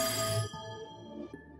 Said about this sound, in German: Pick up the phone, damn it!